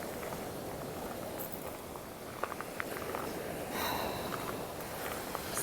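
Footsteps crunch over seashells on a Sanibel beach, a soft, irregular scatter of faint crackles over quiet background noise.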